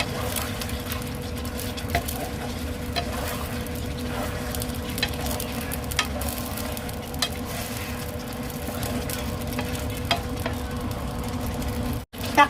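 Chicken adobo sizzles steadily in a pan while being stirred, with a continuous frying hiss and frequent scraping, clinking strokes of the utensil throughout, fairly loud and close with no talking.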